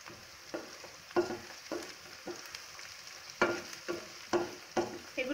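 Cauliflower and sliced green chillies fry in a pan while a spoon stirs them, giving a series of close scraping strokes over a steady low sizzle, with no one talking.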